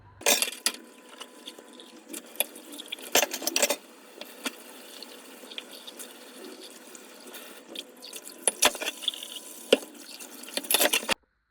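Dishes being washed by hand at a kitchen sink, with running tap water, splashing and clinks of dishware in irregular bursts, fairly close and steady, no talking.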